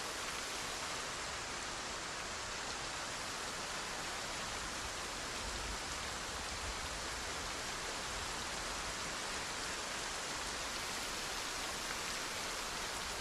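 Steady, dense hiss of rainfall in the video game Project Zomboid, unbroken and even throughout, with no other sounds standing out.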